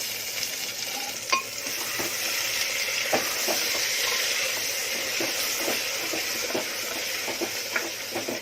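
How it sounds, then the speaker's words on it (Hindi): Cashew kernels frying with golden-browned onions in a pan, a steady close sizzle with scattered stirring scrapes and light clinks throughout, no talk. "एक मिनट प्याज में बीज को भून ली, 1-2 मिनट।"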